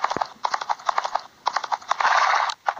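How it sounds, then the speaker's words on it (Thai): Horse hooves clip-clop in a cowboy video game, a quick run of sharp, fairly close hoof beats in irregular bursts, with no talk over them. "เรียกม้ามาเวลาไหนก็ได้นะครับกดตรงที่รูปม้าเนาะ"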